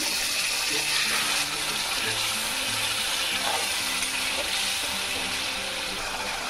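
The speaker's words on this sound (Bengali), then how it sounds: "এখন একটু হালকা জল দিয়ে দেব, বেশি জল দেব না।" A little water poured into a pan of egg curry cooked down with spices and curd, heard as a steady close hiss and splash of water with faint sizzling underneath, running throughout.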